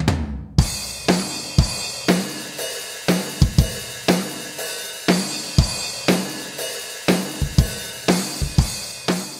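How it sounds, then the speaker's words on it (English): Sampled acoustic drum kit from the AIR Strike 2 virtual instrument playing a steady groove of punchy kick and snare hits with cymbal and hi-hat wash. It keeps an even rhythm throughout and plays alone. "We've got Strike 2 that includes 19 sampled drum kits that are interchangeable"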